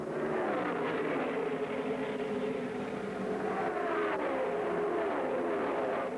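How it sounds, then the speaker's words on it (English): IndyCar race cars from 1974 roar around the Phoenix oval, a loud continuous engine drone with shifting pitch as the cars pass and battle for position. "Entering the third turn, Sneva fires past Dallenbach to take over the second place spot"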